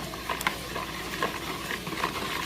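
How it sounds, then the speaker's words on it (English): Milk, sugar, egg and condensed milk stirred together for bread dough: a soft, continuous swishing with a few light knocks from the utensil, close and fairly quiet. "This is milk, sugar, egg, condensed milk."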